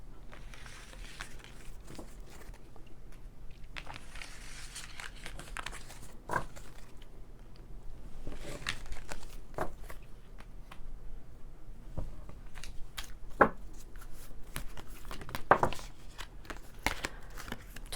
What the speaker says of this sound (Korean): 천사의 카드 한번 뽑아보고 마무리하겠습니다